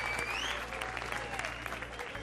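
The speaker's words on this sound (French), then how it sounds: "Alors on va vous applaudir encore une fois. Applaudissez-les" A television talent show audience in The Voice Afrique studio applauds steadily, a dense, fairly soft patter of clapping with a voice speaking over it.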